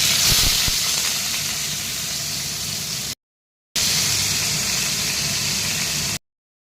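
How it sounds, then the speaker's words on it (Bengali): Loud, continuous hiss of bhola fish frying in oil in a pan, close and steady, broken by two short gaps of silence. "আজকে ভোলা মাছ রান্না হচ্ছে"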